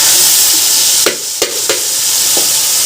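Browned onions frying in a pan with tomato, chili and garlic paste give a steady close sizzle, broken by a few sharp stirring clinks and scrapes.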